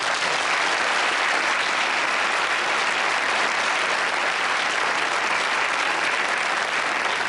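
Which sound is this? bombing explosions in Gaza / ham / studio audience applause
studio audience applause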